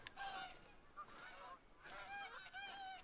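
Geese honking in a goose hunting video game, several repeated nasal honks in bursts across a few seconds, faint and fairly close, with no talk over them.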